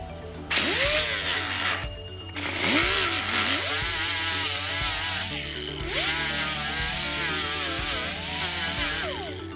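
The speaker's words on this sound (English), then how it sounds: "I think I can get all of this with the grinder as long as I'm really careful" Handheld grinder cleaning up the sides of a metal part in a workshop, its loud high whine dipping and recovering in pitch as it bites the workpiece, with a few brief pauses between passes.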